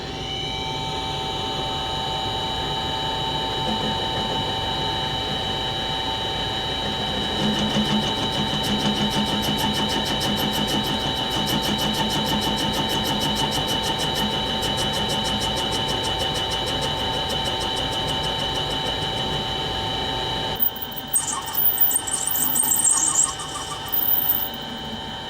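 A mini lathe turns a part for a pellet gun, a steady whine and hum that grows busier midway, then gives way to short scraping cuts near the end.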